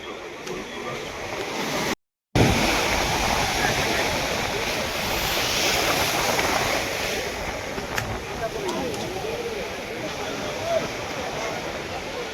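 Rough sea waves crash on Digha beach at night at the second ghat under a full moon, a loud continuous roar of surf with wind buffeting the microphone, briefly cut out near the start.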